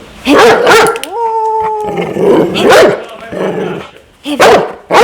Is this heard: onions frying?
no